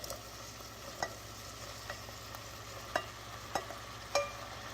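Butternut squash and softened onions hit a hot pan, a faint low sizzle running underneath with a few sharp clinks and taps of a utensil stirring at irregular intervals.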